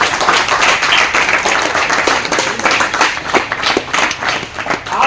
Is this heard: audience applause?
yes